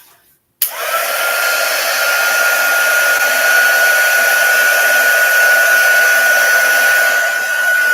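A hair dryer switches on abruptly and runs with a loud, steady whooshing blow and a high whine, drying a bead craft close by with no talking.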